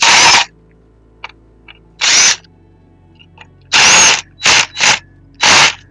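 A power drill backs screws out of discarded electronics in five loud bursts, each about half a second long, separated by quiet gaps with faint clicks.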